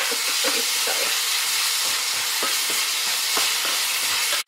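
Paneer bhurji with tomatoes being mashed and stirred in a hot pan, a steady loud sizzle with repeated soft scraping and pressing strokes, close up, and almost no talk.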